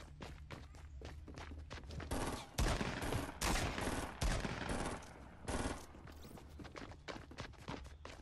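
Gunshots in the video game Fortnite come as a rapid run of sharp cracks, then a loud, dense volley of heavy fire in the middle, and finally scattered single shots and footsteps.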